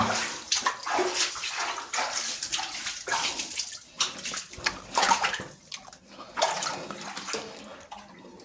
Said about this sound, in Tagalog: So tubig dito